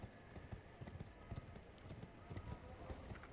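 Horse hooves clip-clop steadily in Elden Ring, a quick, regular trot of soft thuds kept at a moderate distance, with faint game ambience beneath.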